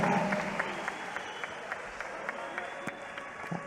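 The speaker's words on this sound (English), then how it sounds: "a round of applause for both fighters, please, in this matchup." A boxing arena crowd applauds both fighters after a ten-round bout, a steady wash of clapping with scattered louder claps and a voice faintly present underneath.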